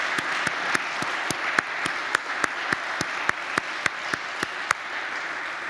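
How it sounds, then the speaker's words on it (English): An audience claps steadily to thank helpers and supporters at an event. The dense applause holds at an even level, with a few sharp, close individual claps sounding regularly above the crowd. "let me maybe ask for a round of applause to all the helpers"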